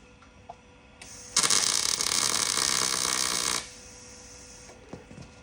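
MIG welding a rear differential mount onto a car subframe: a steady, loud crackling buzz of roughly two seconds, preceded and followed by faint shop hum and small clicks.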